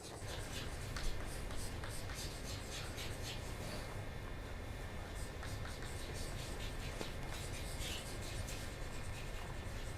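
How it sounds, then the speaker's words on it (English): A hand writes out a spelling during a digital switching lecture, with a soft, steady scratching of pen strokes going on continuously under a constant broad hiss of room noise, faint and close. "let me write down the proper spelling"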